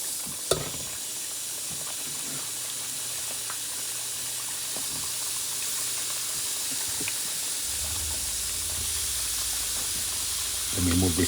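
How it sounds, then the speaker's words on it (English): Burgers searing in a preheated pan with no oil produce a continuous soft hiss and sizzle, steady and close, with a sharp clatter early on and a rise in low rumble near the end. "And I'm going to add these burgers, okay? No oil, no nothing."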